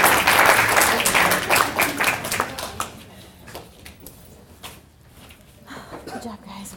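Applause from a classroom audience for a student judging unit breaks out loudly at once, then thins over several seconds into scattered claps and fades under quiet room noise.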